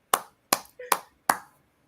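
A few sharp hand claps, four distinct slaps about a third of a second apart, loud and close, with a brief vocal murmur between two of them.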